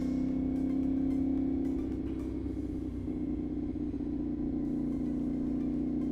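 A CFMOTO 450SS motorcycle fitted with an IXIL aftermarket exhaust rides along, its engine a steady low droning rumble heard from the rider's position, easing slightly after the first couple of seconds.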